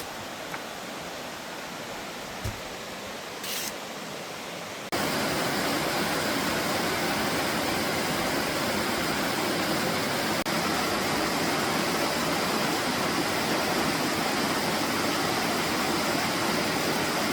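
Loud mountain stream water rushes steadily along a narrowing trail in the Jocassee Gorges of South Carolina, a dense continuous roar up close that gets suddenly fuller partway through.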